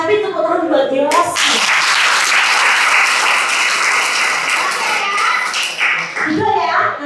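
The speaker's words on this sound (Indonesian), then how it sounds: "tepuk tangan buat Yos" A church congregation claps for Yos, a burst of dense applause lasting several seconds, with a speaker's voice before and after it.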